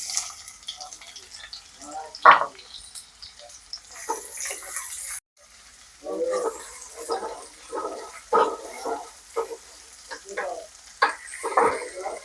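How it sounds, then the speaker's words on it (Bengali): Chopped onions frying in oil with five-spice and dried red chillies in a pan, heard as an uneven sizzle with stirring scrapes and a brief pause partway through. "পেঁয়াজটা ভাজা হয়ে গেছে"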